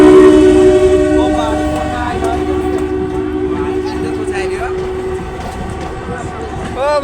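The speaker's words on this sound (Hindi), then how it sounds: "रेलवे स्टेशन में देखे सकै छी ट्रेन आ रहल छै" A train pulling into a railway station in Janakpur, loud and close, with a sustained whistle or horn tone, rumbling wheels and squealing brakes as voices of waiting passengers carry over it.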